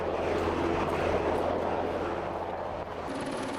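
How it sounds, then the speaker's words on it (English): A helicopter works over a fire scene with a steady, broad rotor and engine roar, moderately distant and continuous, without clear blade chop. "A helicopter was brought in to back up the ground crews."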